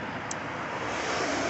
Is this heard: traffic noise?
yes